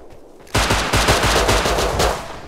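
Rapid automatic gunfire in Rust, a close, loud burst of about a dozen quick shots lasting roughly a second and a half after a brief quiet lead-in.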